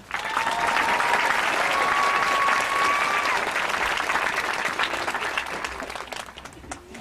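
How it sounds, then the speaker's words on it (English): Applause rises quickly at a high school graduation ceremony, a full crowd clapping loudly and steadily for several seconds before gradually thinning out toward the end. "One more round of applause for Mr. Erickson."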